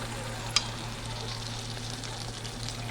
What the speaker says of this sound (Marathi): हे पहा आपलं चिकन शिजत आलं आहे